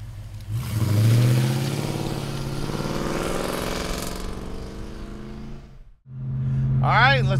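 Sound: 1966 Ford Mustang coupe engine revving

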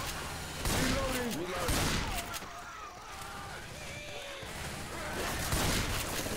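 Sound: gunfire from a video game, Left 4 Dead 2

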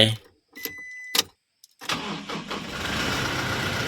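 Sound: car engine starting after jump start with OSUKA battery

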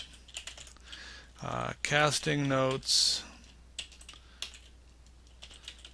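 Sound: typing on a computer keyboard

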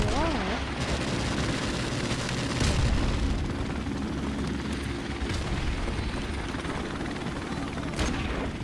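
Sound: enemy helicopter in Modern Warfare Remastered video game

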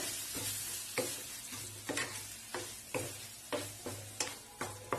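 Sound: stirring carrot halwa with ghee and milk sweet in pan

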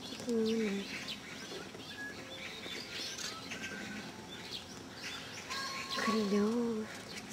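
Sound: birds singing at Seoul zoo

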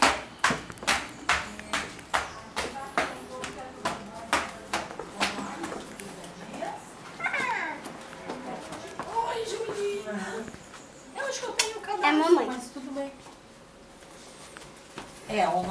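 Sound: footsteps of flip-flop slippers

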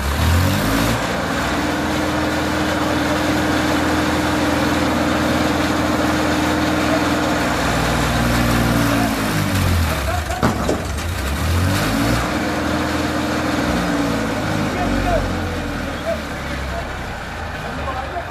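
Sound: Massey Ferguson 241 tractor engine climbing brick test

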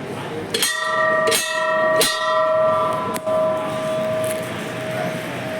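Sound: temple bell ringing

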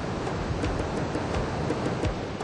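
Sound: small waterfall on the upper Nile

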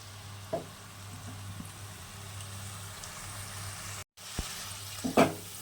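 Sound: fish with poppy seeds sautéing in pan with water

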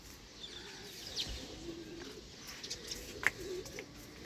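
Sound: sparrow calling

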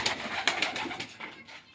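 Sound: pigeons cooing

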